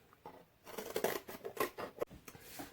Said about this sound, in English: using your paper scissors, you need to cut this out.